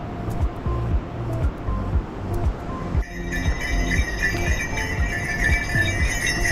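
The Imja River rushes below a suspension bridge on the Everest Base Camp trek in Nepal, a steady broadband roar. Rhythmic low thumps run beneath it, and ringing tones join partway through.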